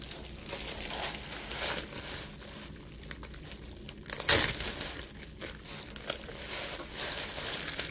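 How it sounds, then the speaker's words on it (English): Cured pork belly is pulled out of a plastic bag, giving close crinkling and rustling plastic with one sharp crackle near the middle, with no voices. "Go ahead and take it out of the bag."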